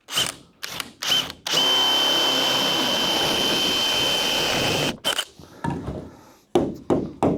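A power drill whines steadily for several seconds, close and loud, with brief bursts of drilling before and after the long continuous run.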